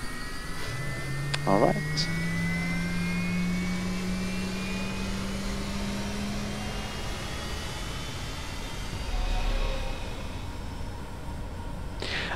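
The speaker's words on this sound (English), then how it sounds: "Now the engines are active." Aerobask Epic Victory jet engines spooling up during start in a flight simulator game, a steady rising whine and roar that holds throughout with brief speech over it.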